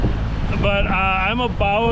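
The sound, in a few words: wind blowing on lake, wind noise on microphone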